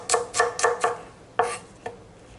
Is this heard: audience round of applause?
no